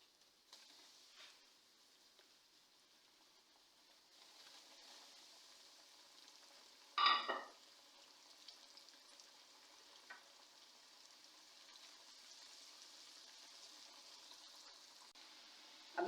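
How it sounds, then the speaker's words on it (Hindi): Potatoes coated in maida and cornflour frying in hot oil for French fries: a faint, steady bubbling sizzle, broken midway by a sharp louder crackle as pieces drop in, then a quiet continuous fry. "यहाँ पे ऑयल गर्म हो चुका है। अब मैं इसको फ्राई करती हूँ।"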